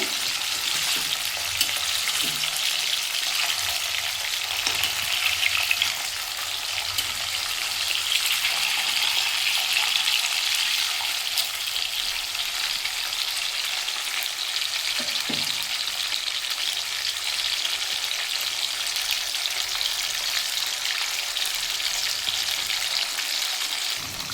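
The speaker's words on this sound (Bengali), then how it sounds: "মাছটা উল্টে দিচ্ছি আর একটু ভাজার জন্য" Hilsa fish pieces shallow-frying in a pan, a steady close hiss of hot oil sustained for many seconds, with occasional faint pops and a light clink partway through.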